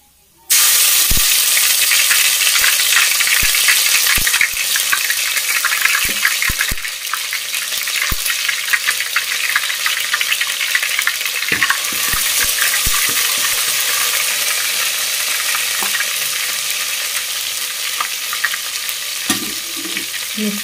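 Homemade ginger garlic paste frying in a hot pan for street-style egg rice, a loud continuous sizzle with scattered clicks and scrapes of stirring, no voices.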